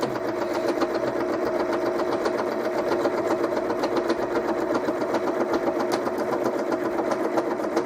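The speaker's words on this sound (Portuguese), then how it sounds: "Tô costurando com a linha pink aqui para dar um detalhe" A sewing machine stitches pink thread along a seam of a fabric necessaire, running at a steady, close, even buzz for the whole stretch with no voices over it.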